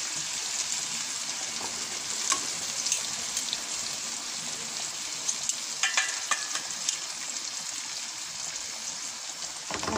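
Tuna steak frying in a small amount of cooking oil, a soft continuous sizzle and crackle with a few sharper spits and taps, fairly quiet and even throughout.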